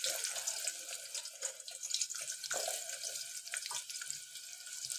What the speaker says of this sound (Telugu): ఆనియన్స్ చూడండి మంచిగా ఇట్లా ఫ్రై అవుతున్నాయి.